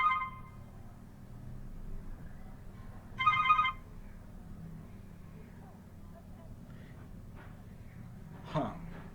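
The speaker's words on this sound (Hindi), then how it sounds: "कोई फ़ोन आ रहा है" A phone rings with an incoming call during a live indoor talk, two short bursts of a bright electronic ringtone, the first at the start and a louder one a few seconds later, over a low room hum.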